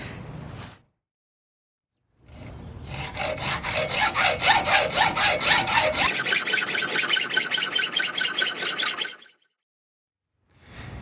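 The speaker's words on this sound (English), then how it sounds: "the hacksaw took forever" A hacksaw cuts through a workpiece in fast, regular back-and-forth strokes, loud and close, the rasping tone shifting partway through the cut, with short silent pauses at the start and end.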